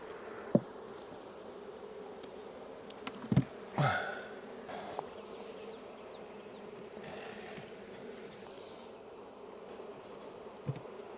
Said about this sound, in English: the bees in the bottom box are roaring